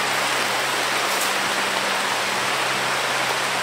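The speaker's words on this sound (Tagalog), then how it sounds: "Ay, nakasing ulan." Steady, dense rainfall hisses close and loud without a break, with a faint low hum beneath and no talking.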